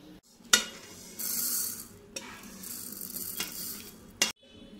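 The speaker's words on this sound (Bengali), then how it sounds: "এমনি শুকনো কড়াইয়ের মধ্যে আমি একটু নাড়াচাড়া করে নেব, একটু ভেজে নেব, বেশি ভাজবো না" Moong dal dry-roasting in an oil-free wok, stirred with scraping, rattling strokes and a faint sizzle, with a few sharp clanks against the pan between the stirs; close and fairly loud, with no one talking.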